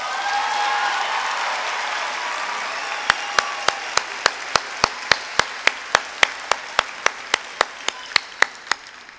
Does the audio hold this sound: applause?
yes